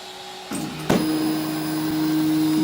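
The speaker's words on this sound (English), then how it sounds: "It's already humming all the axes. By the way, this is a Wilson 2 3D printer." A Wilson 2 3D printer homes its axes, starting with a low hum, then a sharp click and a steady, loud stepper-motor whine that holds on through the rest.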